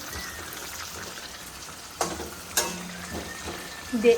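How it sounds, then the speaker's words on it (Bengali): Potatoes fry for chicken biryani, a soft, low sizzle in a pan with a few sharp clinks of a utensil scraping and turning them, close and fairly quiet. "এই আলুগুলো ভাজা হয়ে গেছে আর এগুলো বাকি আছে এগুলো ভাজা হচ্ছে"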